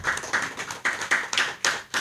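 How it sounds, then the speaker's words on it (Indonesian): Audience applause for a guest speaker at an open lecture, a few short bursts of clapping rising and falling in quick succession, fairly close and without talk. "Tepuk tangan untuk Mas Huda"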